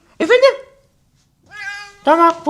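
A cat gives two distinct meows, one short and one drawn out, separated by a quiet gap, close and fairly loud with no talk over them.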